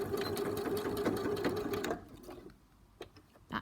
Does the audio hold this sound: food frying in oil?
no